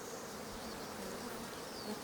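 Bees swarm around hives in Sicily with a soft, continuous buzzing drone that holds steady throughout, fairly faint and with no voices.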